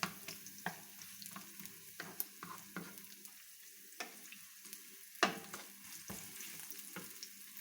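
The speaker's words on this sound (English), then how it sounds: "here we're going to saute first the garlic and the onions" Garlic and onions sauté in a pan, a soft steady sizzle punctuated by repeated sharp scrapes and clacks of a utensil stirring, one louder knock near the end; no one speaks.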